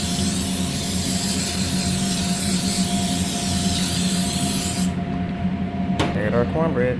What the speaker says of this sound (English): we're gonna pan spray this here